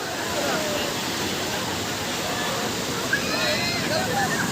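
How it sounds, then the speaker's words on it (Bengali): Big sea waves breaking on the beach at Digha, a steady loud roaring wash of surf filling the whole clip, close and continuous with no gaps. "কত বড় বড় ঢেউ উঠছে দেখেছো"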